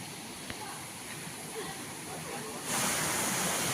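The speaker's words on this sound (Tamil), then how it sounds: "அதில் வந்து வர தண்ணி தான் இது பாருங்க" Water fed from a dam rushes steadily through a channel near a hillside village temple, a dense continuous hiss that swells louder toward the end, close and unbroken.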